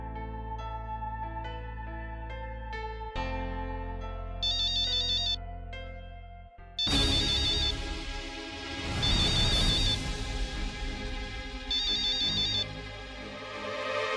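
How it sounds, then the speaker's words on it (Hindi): A melodic phone ringtone plays alone, a bright electronic tune that repeats and swells louder partway through. "तेरा फोन बज रहा है"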